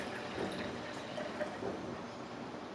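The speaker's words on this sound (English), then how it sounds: "Gently pour them into your French press." Hot water poured into a French press for coffee, a soft steady trickling and filling sound with faint drips, quiet and close, no voices.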